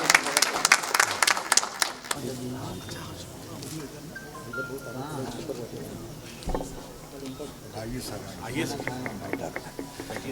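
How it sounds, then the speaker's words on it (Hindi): Audience at a mushaira in Warud, Amravati, clapping to welcome a guest: a burst of crowd applause at the start that fades within about two seconds, followed by softer murmuring and scattered sounds. "आप तालियों से इस्तकबाल।"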